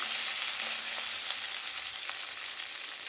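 Onions with green and dried red chillies sauté in a pan for a chutney, a steady, dense sizzle holding at an even level throughout with faint scraping ticks and no voices.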